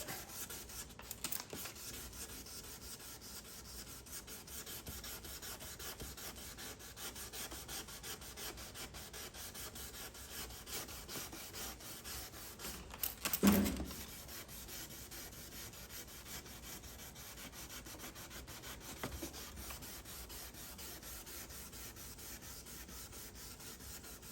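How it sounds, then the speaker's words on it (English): Steady, quiet rubbing and rasping of a car headlight being wet sanded continues throughout, with one brief louder scrape partway through. "keeping the surface wet and the pad wet and sanding in straight non-circular motions"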